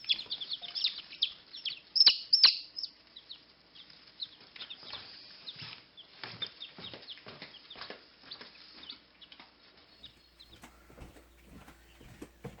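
Newly hatched Jersey Giant chicks keep up a dense, high-pitched chorus of cheeping, steady and fairly close, with brief rustles from their movement.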